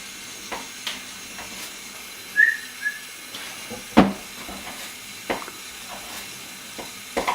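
A palette knife works tap water into pastry dough for apple tarts, giving quiet, intermittent scrapes and soft taps against the bowl, spaced irregularly, with a faint hiss of background between strokes.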